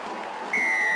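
Crowd at a rugby league grand final between Westfields Sports and PB Blacktown erupts after a conversion kick, a dense roar of cheering that swells suddenly halfway through, with a whistle-like tone rising above it.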